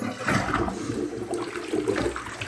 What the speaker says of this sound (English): flush the toilet one more time